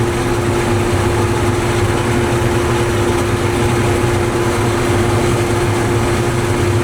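A John Deere turbo diesel engine fitted in a Harley idles on a dyno in fourth gear, giving a loud, constant drone with a steady hum and no voices.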